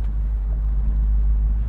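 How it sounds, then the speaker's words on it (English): The exhaust of a 1970 Chevrolet Chevelle rumbles as the car makes a U-turn: a loud, steady, deep engine drone held close and unbroken throughout. "And listen to that exhaust."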